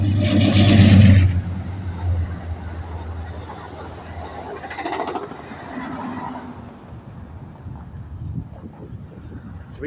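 A Coaster commuter train with three coaches passes Carlsbad Poinsettia station, a loud close rumble at first that fades into a softer, more distant roll, with wind noise and someone talking over it.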